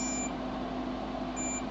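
Small electronic devices give thin, high beeps, one at the start and another near the end, over a steady humming background with no talking.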